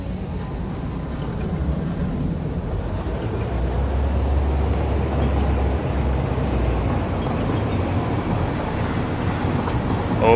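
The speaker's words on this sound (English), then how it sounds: "Okay, the train just cuts through the rails." Train rolling along rails in the video game Satisfactory, a steady loud low rumble and hum that holds throughout with no talk.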